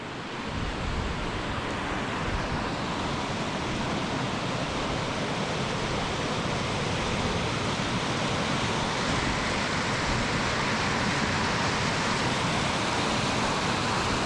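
A river in Scotland flowing strongly, a constant loud broadband rush of water that stays even and unbroken throughout, with no voices.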